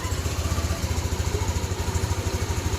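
A Yamaha Nmax v2 scooter engine idles unsteadily after its ISC was reprogrammed, a close, loud, rough low throb with an uneven pulsing rhythm running throughout.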